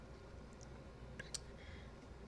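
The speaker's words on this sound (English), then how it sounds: "take my scissors and trim off" Scissors make a few quiet, crisp snips while trimming excess packaging for a handmade spring shaker card, two closely spaced cuts standing out against faint room noise.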